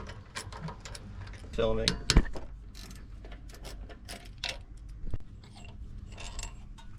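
Ratchet clicking as 12 mm carburetor mounting bolts are backed out on a Kei vehicle fitted with a motorcycle CV40 carburetor swap, a close series of rapid mechanical ticks with some brief speech and shop clatter.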